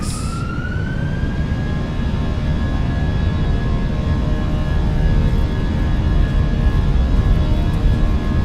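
Airbus airliner jet engines roar steadily at takeoff thrust through the takeoff roll, loud and continuous with a rising whine that settles into a constant tone.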